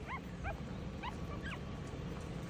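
Five-day-old Schnauzer puppies give several thin, high whimpers and squeaks in quick bursts, faint and close, over a constant background rumble.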